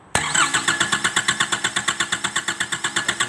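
A Nissan engine cranks hard while its fuel pump is being tested, the starter turning over in a fast, steady rhythm of evenly spaced pulses that continues unbroken without catching, loud and close with no talking.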